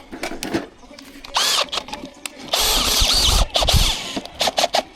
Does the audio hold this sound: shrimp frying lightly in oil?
no